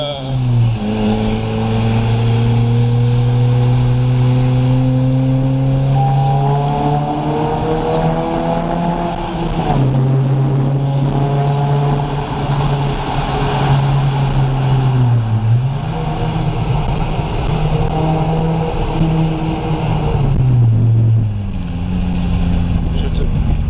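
A loud, steady Suzuki Swift Sport engine drone with shifting pitch, rising and dipping like a revving sports car, nearby and continuous throughout.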